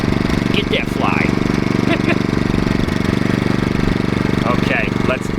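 A WEN portable generator engine runs steadily at close range with its exhaust pointed toward the listener, a constant mechanical drone, while a person talks over it.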